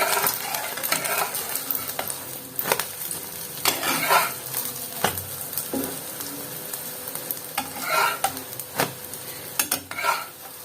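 An omelette sizzles and fries in a pan, with steady close frying crackle broken by repeated clinks and scrapes of a spatula or utensil against the pan.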